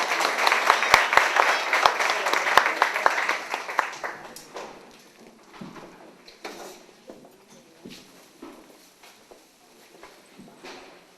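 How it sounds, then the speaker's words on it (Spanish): An audience greets a guitar duo at a concert with dense applause that starts strong and then thins into scattered individual claps. Faint voices murmur beneath it. "Fuertes aplausos, por favor, para ellos"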